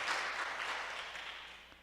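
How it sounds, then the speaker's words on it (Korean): An audience at a lecture hall talk bursts into applause, a dense patter of clapping that starts strong and gradually fades over a couple of seconds. "박수 한번 주십시오."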